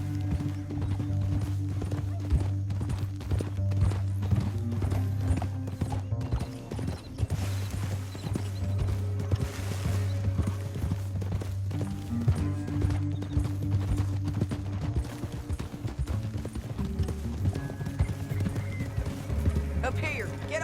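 Horse hooves clip-clop steadily in a Red Dead Redemption 2 canyon ride, moving along under a continuous bed of game music and background sound, with occasional mechanical clicks mixed in.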